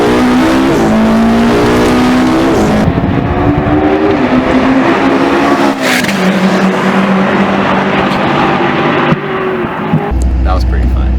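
Formula race car engine on a track at New Jersey Motorsports Park, loud and close with rising and falling revs through gear changes, someone talking over the steady engine roar.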